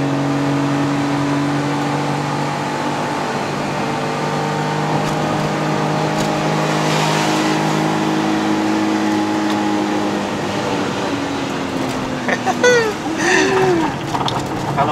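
A Perodua Viva 850 with a five-speed manual strains up a steep mountain road slope toward Genting in Malaysia, its small engine giving a steady, droning rev that builds in pitch. Someone talks over it, and a brief squeal comes near the end.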